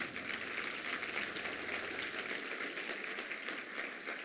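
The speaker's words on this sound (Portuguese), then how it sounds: "Uma salva de palmas para Jesus" A church congregation applauds, with dense, steady clapping from many hands filling the room throughout.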